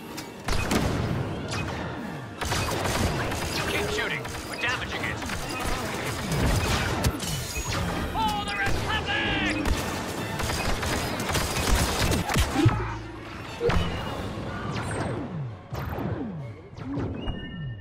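Blaster fire and explosions crackle in Star Wars Battlefront 2 during a Republic battle on Geonosis, dense and continuous with rapid repeated shots, crashes and thuds layered over a busy game soundtrack.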